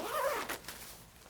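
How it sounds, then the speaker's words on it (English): A YKK zipper on a Tour Master Alpine-Trek motorcycle jacket is pulled in one quick, close rasping stroke, followed by a couple of soft fabric rustles. "Let's zip this up so you can see what it looks like."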